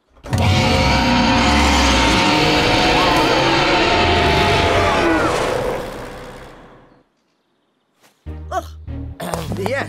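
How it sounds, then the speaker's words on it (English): A cartoon Triceratops dinosaur from a children's animated series lets out a loud, rasping roar that lasts about six seconds and slowly fades, followed by a short pause and then voices talking. "I'm not certain Triceratops would have sounded like that"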